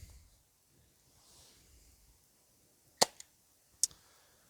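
Two sharp, moderately loud pops from a CO2-powered dart blaster launching darts outdoors, spaced under a second apart after a quiet stretch, with a faint following click.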